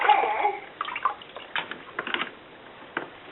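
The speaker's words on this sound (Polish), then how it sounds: "I dokładnie ją płuczemy, żeby nasz farsz nie był za kwaśny" Water runs and splashes through sauerkraut in a colander as it is rinsed, an irregular stream of close, wet bursts and drips with no talking.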